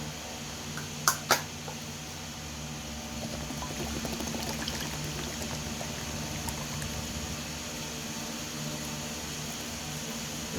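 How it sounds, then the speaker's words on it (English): Evaporated milk pours from two 12-ounce cans into a mixing bowl, a soft steady liquid stream after a couple of sharp clicks from the cans, close by in a quiet kitchen. "we're gonna put in 2 12-ounce containers of evaporated milk"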